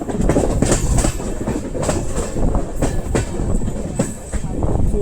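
An LHB-coach passenger train, the Maharashtra Express, runs along the rails with continuous loud rumble and repeated clickety-clack of wheels over rail joints, heard close and steady throughout.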